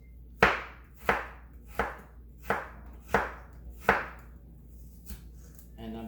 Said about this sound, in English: So we want to slice the ginger in nice little slivers.